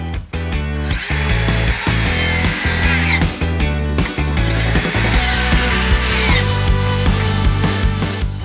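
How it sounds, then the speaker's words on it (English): A Hitachi C18DBL compact cordless circular saw cuts into a damp timber sleeper with a loud, steady motor drone, then the blade is jammed and the brake engages; the tone shifts and a lower hum continues alone. "We're going to purposely jam the blade to see the brake in action."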